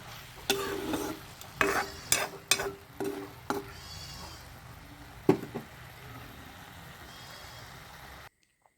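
Pieces of taro are stirred and fried in a pan over a lowered flame, with a soft background sizzle and a few sharp scraping utensil strokes early on. It ends in sudden silence.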